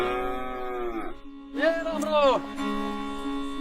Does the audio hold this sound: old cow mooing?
yes